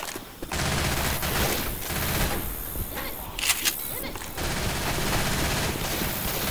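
Gunfire in the video game Left 4 Dead 2 on the Dark Carnival campaign, with dense bursts of rapid shots and rattling fire running through the whole stretch, some louder cracks mid-way, and a voice heard faintly.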